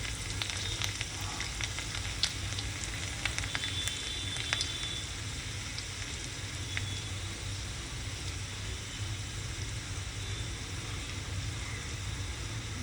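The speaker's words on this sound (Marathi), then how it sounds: "जिरा आणि लसूण चांगलं कडकडलं गेलं आहे।" Cumin seeds, asafoetida and finely chopped garlic spluttering in hot oil in a pan, a continuous soft sizzle with scattered sharp crackles and pops, close up and without voices.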